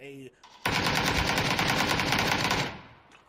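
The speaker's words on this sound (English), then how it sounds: "getting shot at from the backside as well as the front" Sustained, loud burst of automatic gunfire from close range in a PUBG duos tournament match, rattling continuously for about two seconds before trailing off, with a brief voice just before it.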